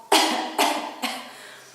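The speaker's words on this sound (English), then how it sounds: "You can cough." Three sharp coughs, close and fairly loud, spaced about half a second apart, each fading quickly, with no talking.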